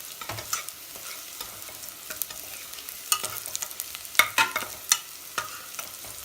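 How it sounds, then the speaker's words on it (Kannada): Onions frying in a pan for Andhra-style chicken masala, with soft sizzling under irregular spatula scrapes and taps that grow sharper and more frequent toward the end, and no voices. "ಈರುಳ್ಳಿ ಚೆನ್ನಾಗಿ ಫ್ರೈ ಆಗಬೇಕು, ಬ್ರೌನ್ ಆಗಬೇಕು"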